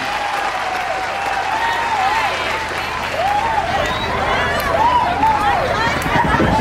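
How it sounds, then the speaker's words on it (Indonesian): An audience applauds after a poetry reading, steady clapping filling the room at close range while voices murmur and speak over it. "Beri aplaus."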